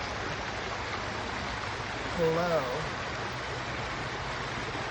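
Rocks sit just below the surface of a steadily flowing stream, and the water rushes around them in a constant broadband wash while someone speaks briefly in the middle.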